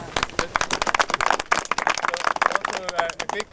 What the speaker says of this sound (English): also a big clap for the 10